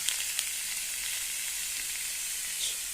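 Basa fish fillet and marinated vegetables sizzle on a hot grill, a steady bright hiss with a few small pops, heard close up and without talk.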